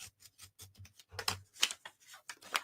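Scissors cut open a plastic package during a crafting grab-bag unboxing, making a close, quiet run of sharp snips and clicks in an uneven rhythm with short pauses.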